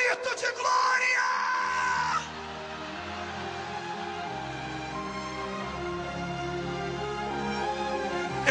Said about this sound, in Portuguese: Quem crê nisso, dê um grito de glória.